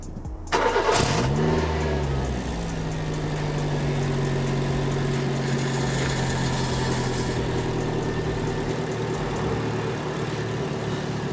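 A Suzuki Swift engine cranks and fires for the first time after an exhaust repair, then settles into a steady, loud idle close by.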